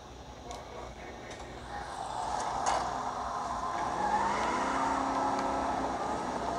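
Car driving in the video game Cyberpunk 2077, engine hum building as the vehicle accelerates, with rising engine tones and faint tire noise; moderately quiet and steady.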